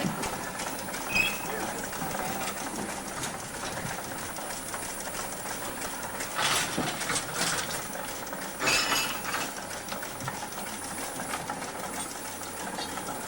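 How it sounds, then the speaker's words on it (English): A small steam hoisting engine lifts an ore bucket up a mine shaft in Alaska, giving a steady rapid mechanical chugging and clatter that runs continuously at moderate volume, with people talking over it. "we're going to hoist them up with that little steam engine here."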